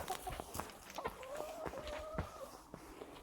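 Rooster and hens clucking on a farm while being let out to feed, a few short calls over footsteps and rustling, with a longer drawn-out crow-like tone in the middle; moderately close but fairly quiet.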